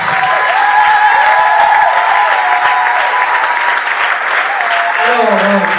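An audience at a book launch for a prophet's second book applauds loudly and continuously, with a few cheers and voices mixed into the clapping.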